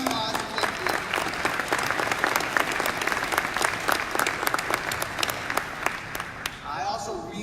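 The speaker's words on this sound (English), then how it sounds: "Let's give them a giant round of applause." Loud, sustained applause from a conference audience at a Rochester tech event, many hands clapping densely and steadily before tapering off at the end, with a voice briefly audible underneath.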